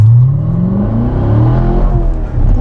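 A Corvette C7 Stingray's engine rises in a loud, close rising drone as it accelerates, the rear tyres struggling for grip, with no talking over it.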